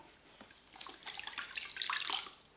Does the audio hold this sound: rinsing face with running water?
yes